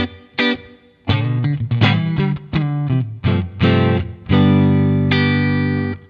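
An electric guitar runs through a Boss Waza Craft Tube Amp Expander with a touch of air feel added, playing loud distorted chords and single notes in choppy bursts that end with a long sustained chord.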